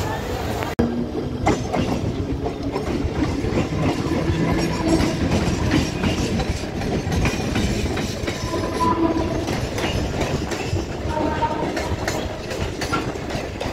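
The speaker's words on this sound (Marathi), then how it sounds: "आता ही कल्याण टू दादर फास्ट लोकल पकडली" A Kalyan-to-Dadar fast local train rumbles steadily along the rails, wheels clattering in a continuous roar heard from inside, with faint voices mixed in.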